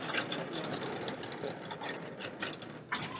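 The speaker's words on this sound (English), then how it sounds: "Vacuum cleaner." A vacuum cleaner runs steadily with a broadband whirring roar and some mechanical rattling, heard at a moderate distance without talk.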